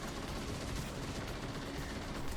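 Light machine gun with volatile rounds firing steadily in Destiny 2, a dense continuous stream of rapid shots at even loudness with no talking.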